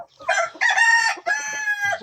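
A purebred Brahma chicken crows loudly nearby in a few strained, drawn-out bursts, with clucking mixed in, clear and close with no talking.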